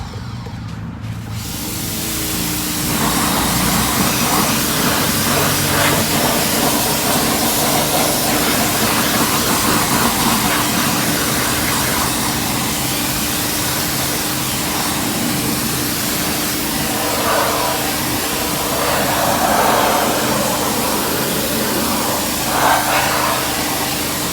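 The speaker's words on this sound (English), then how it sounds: "this time I'm going to go ahead and get my pressure washer turned on" A pressure washer sprays car wheels and tires with a loud, continuous, forceful hiss that holds steady for the whole stretch, with no talking.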